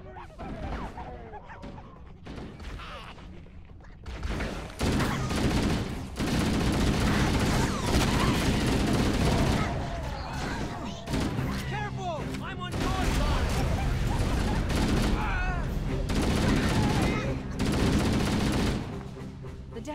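Continuous gunfire and heavy weapons fire in the Halo video game battle aboard the damaged ship Autumn, loud sustained bursts with crashes and booms, accompanied by game dialogue voices throughout.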